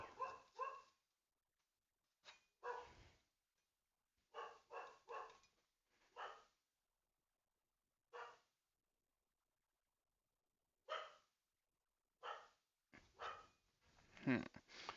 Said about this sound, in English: Got the old dogs in a tizzy.